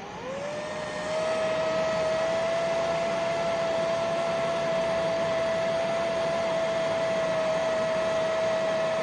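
A ROBAM A810 range hood fan blows air in a steady, loud whoosh that rises within the first second and then holds a constant tone, with no talking.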